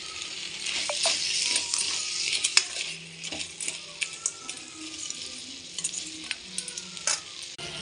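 Masala with salt sautéing in a pan for lake crab curry, a steady close sizzle broken by sharp scrapes and clinks of a spoon stirring against the metal.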